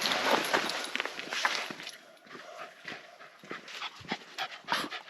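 Dogs near a campsite outside Dracula's Castle in Transylvania, Romania, pant rapidly close by, with scattered padding footsteps and rustling around them.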